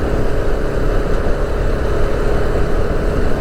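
A motorcycle engine drones steadily while riding on a road trip from Gandhinagar toward Sabli, heard as a continuous low rumble mixed with wind noise and no breaks.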